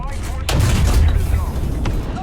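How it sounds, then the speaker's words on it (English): An artillery strike lands in the War Thunder tank battle game: a sudden heavy boom, then a dense rolling rumble of explosions that stays loud and close until the end. "Artillery strikes in your sector."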